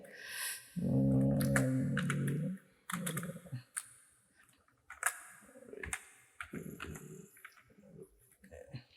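A computer keyboard is typed on in short bursts of light clicking keystrokes. A voice speaks over and between the bursts.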